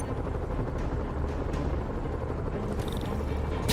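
Helicopter in Marvel's Spider-Man Remastered, a steady broadband rotor and engine drone holding at a constant level for several seconds with no talk.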